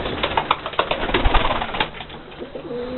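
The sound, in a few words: pigeons cooing in a loft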